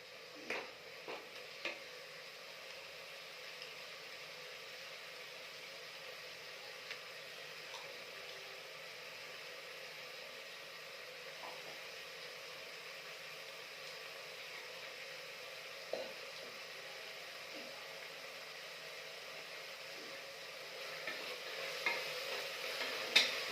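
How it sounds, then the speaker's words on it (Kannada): Fenugreek leaf bath mixture with ginger-garlic paste fries quietly in a pan, a soft, even sizzle broken by scattered light scraping and tapping of a spoon, growing a little busier toward the end. "ಇದು ಸ್ವಲ್ಪ ಹಸಿ ಸ್ಮೆಲ್ ಹೋಗೋ ತನಕ ಇದನ್ನು ಸ್ವಲ್ಪ ಫ್ರೈ ಮಾಡ್ಕೋಬೇಕು."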